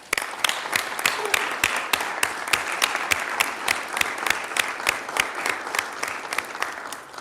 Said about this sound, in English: Please join me in a round of applause in acknowledging them.